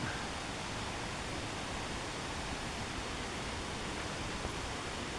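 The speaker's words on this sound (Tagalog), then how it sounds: "yan ito ang Estrella Falls ng Palawan" Steady roar of Estrella Falls, a waterfall on a hillside in Palawan, Philippines, a constant broadband rush of falling water that stays loud and unchanging throughout with no voices.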